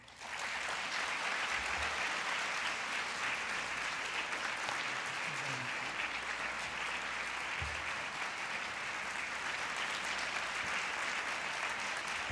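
An audience applauds steadily at an author reading event, a dense wash of clapping from a full room that starts abruptly and stays even and strong for about twelve seconds, with no one speaking.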